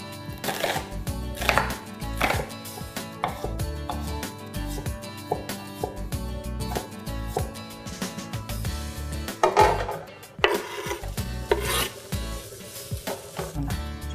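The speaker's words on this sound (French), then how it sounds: "On va couper les rondelles de pommes de terre oignons assez fins." Knife slicing peeled potatoes and onion into thin rounds, a quick run of crisp rhythmic chops against a board, close and fairly loud with brief pauses between bursts.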